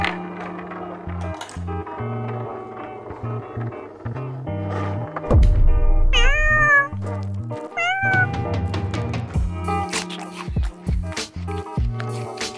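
Pet cats meow several times, with clear rising and falling calls in the middle of the stretch, mixed with clicks, rattles and thumps around them.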